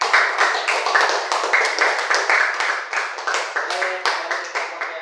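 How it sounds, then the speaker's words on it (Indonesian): Classroom applause for a classmate after a student presentation, a steady run of many hands clapping together, close and lively, continuing for several seconds. "kasih aplaus dulu buat temannya"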